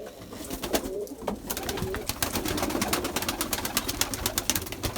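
Erzurum white pigeons coo in a steady run of soft, rhythmic calls with close wing flutters and rustling, and no voices.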